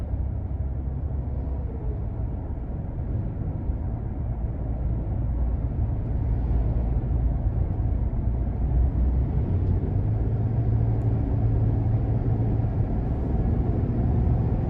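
A 2022 Nissan Frontier SV King Cab pickup with the 3.8 liter engine and 9-speed automatic drones steadily from inside the cab, a continuous low road and engine rumble with no talk.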